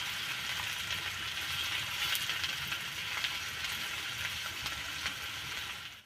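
Onions and cumin seeds fry in oil and are stirred, a constant dense sizzle with faint crackles and occasional spoon scrapes, close and even throughout before cutting off at the end.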